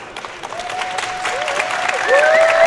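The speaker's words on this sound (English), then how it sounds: "The crowd goes wild." Applause and cheering rise from a crowd at a Magic: The Gathering Beta Rochester draft at Grand Prix Las Vegas, a steady wash of clapping that swells louder toward the end as commentators speak over it.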